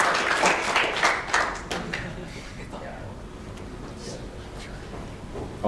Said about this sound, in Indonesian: tepuk tangan untuk Rama